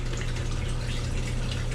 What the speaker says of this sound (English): Always rinse your pH meter in fresh water